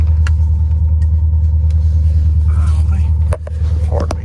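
A 1980 Porsche 928 engine idles with a deep, steady low rumble close by, dipping briefly near the end, while someone talks over it.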